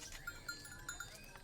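A line of goats walking along a forest path behind their herder, heard very faintly: soft, evenly repeated high tinkling notes over a quiet, distant background.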